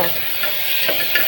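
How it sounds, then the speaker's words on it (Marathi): Onion and tomato frying in a pan with a little salt, a close, continuous sizzle with scraping stirs coming through at intervals. "चांगला भाजून घ्यायचा कांदा टोमॅटो."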